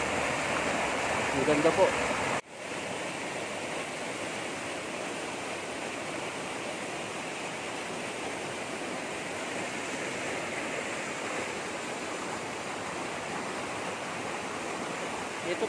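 Clear water flowing in a stream on a large farm lot with waterfalls, a constant close rushing wash that continues unbroken, with a brief spoken remark near the start.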